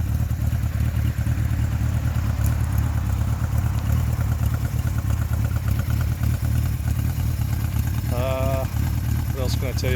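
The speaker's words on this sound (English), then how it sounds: "Bike starts right up, even when it's cold." A 1975 Honda CB550 Four motorcycle engine idling while warming up from a cold start, a steady low rumble with light mechanical clatter running throughout, with brief other sounds near the end.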